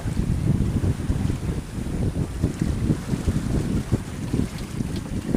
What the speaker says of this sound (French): Le vent se renforce.